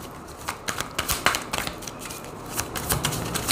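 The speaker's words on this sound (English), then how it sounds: "You're wanting a really good shuffle here." A deck of tarot-style cards is shuffled thoroughly during a reading, giving a steady run of crisp riffling and slapping bursts, close and fairly loud, with no talking.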